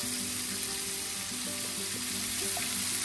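Beef fries in a pan with a steady, loud sizzle that holds unbroken throughout, close up, with no talking over it.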